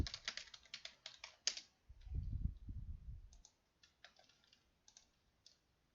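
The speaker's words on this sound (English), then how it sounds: "Okay, so let's type that in." Fast, close clicking of keys on a computer keyboard comes in quick bursts, pauses briefly, then returns as a few lighter, scattered keystrokes.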